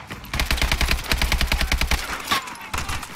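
Rapid automatic gunfire from a Call of Duty campaign battle, a steady stream of sharp close shots running for about two seconds, then a short pause and a few more bursts, with no voices.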